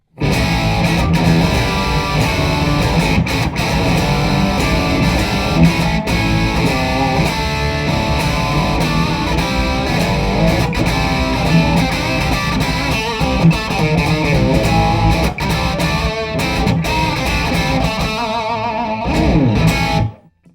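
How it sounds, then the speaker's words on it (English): A distorted electric guitar through a Seymour Duncan SHPR-1 P-Rails pickup in humbucker mode plays a thick, loud riff with effects, continuous chords and notes ringing for about twenty seconds before stopping. "And finally, the humbucker tone."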